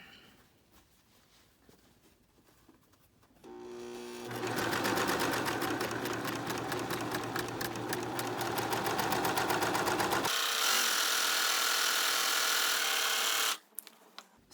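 Sewing machine stitching a box top, a rapid steady mechanical whir that starts after a few quiet seconds, shifts pitch midway, and stops abruptly near the end.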